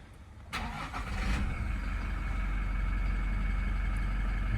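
A Toyota Hilux GD-6 2.8-litre diesel engine cranks and catches with a sharp burst, then settles into a steady, rumbling idle that continues evenly to the end.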